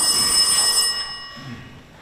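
A telephone rings on stage during an amateur theatre performance in the Kuimetsa village hall, Estonia, its bright bell trill sounding loud and close, then cutting off and fading into quiet room noise.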